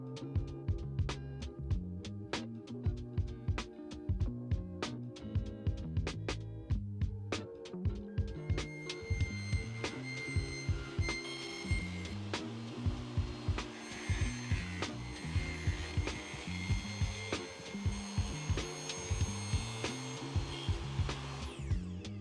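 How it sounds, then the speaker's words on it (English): A home sewing machine stitching color-matched thread through fabric edging onto cane webbing, with a rapid, steady mechanical clatter, close and continuous, that speeds into a denser whir partway through. "I'm using my sewing machine with a color matched thread to attach the edging to the cane webbing."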